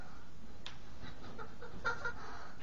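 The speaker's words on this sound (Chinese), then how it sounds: "前方高能的鸡叫啊，鸡叫声" A chicken clucking sound effect plays from a program at low level, a few faint clucks over a steady background hiss.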